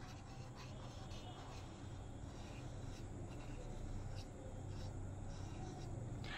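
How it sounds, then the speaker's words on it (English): Steady scratching of a pen or pencil drawing a nest on paper, a faint, continuous scribble with small bursts of strokes, close and quiet. "Draw with me a nest."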